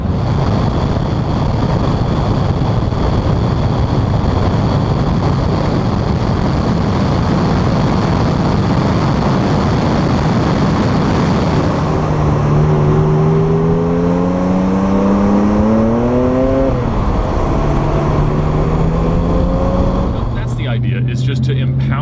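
RUF RT12 S sports car accelerating hard from inside the cabin, with broad engine and road roar building, then rising harmonic engine tones climbing through gears in the final seconds, loud and close.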